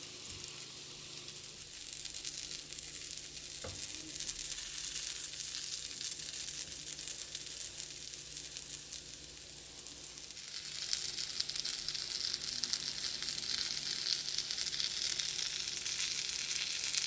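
French toast roll-ups fry in a hot pan with a steady, close sizzle that swells louder near the end, with no one talking.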